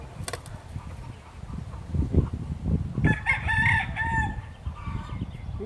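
A rooster crows loudly nearby, one drawn-out cock-a-doodle-doo rising over a background of low clucking and scratching outdoors by a gate, with chickens moving about.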